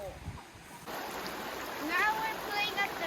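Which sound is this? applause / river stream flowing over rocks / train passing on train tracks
river stream flowing over rocks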